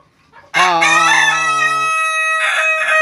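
A rooster in a crowing duel lets out one long, loud crow right up close after a brief quiet start, with its call holding strong and steady to the end.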